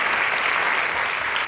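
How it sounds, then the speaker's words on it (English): A studio audience at a math quiz show breaks into brief, even clapping, steady and fairly loud for just over a second. "Please give them a round of applause."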